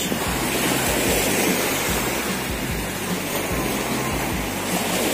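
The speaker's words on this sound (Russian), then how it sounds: "Вот такой вот у нас пляж." Sea waves wash onto a beach in a steady, broad roar with faint rhythmic swells, mixed with wind noise on the microphone.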